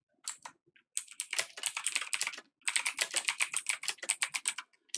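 Fingers type rapidly on a computer keyboard in close, crisp bursts of clicking keystrokes, broken by a pause and then a longer dense run of taps, with no talking.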